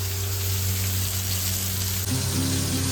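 Stuffed pomfret fish frying in a pan at home, Indian style, a loud steady sizzle that crackles evenly throughout with no talking over it.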